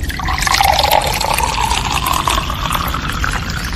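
Water poured for drinking, a continuous close splashing and filling sound lasting a few seconds, fairly loud with no voices over it.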